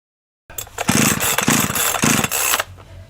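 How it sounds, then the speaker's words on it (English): A cheap chainsaw with no two-stroke fuel mix in it is pull-started over and over. A series of loud, close rasping tugs comes at uneven intervals, but the engine never catches. "Not very good at starting chainsaws like that."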